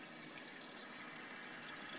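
Tap water runs into a sink for a puppy's bath, a steady soft hiss and splash that stays even throughout with no voices.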